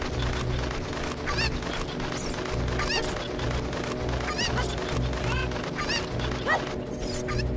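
A Cucco chicken in The Legend of Zelda: Ocarina of Time clucks in a rapid string of repeated squawks over a steady background hum from the game.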